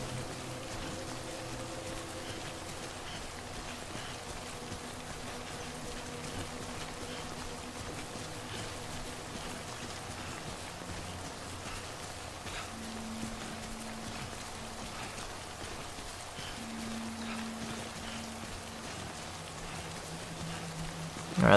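Constant rain falls in Death Stranding, an even soft hiss running throughout, with low tonal music drifting underneath.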